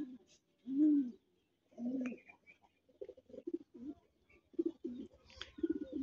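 Pigeon cooing from a club-kept male racing pigeon, close by: a few deep, rounded coos in bursts, then a run of shorter rhythmic coos, with faint chirps above and no talk.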